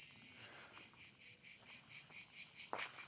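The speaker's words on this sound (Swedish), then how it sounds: "jag har saknat cikaderna." Cicadas in the Italian countryside among vineyards make a steady, pulsing, rhythmic buzz at moderate volume, with a brief faint sweep near the end and no talking.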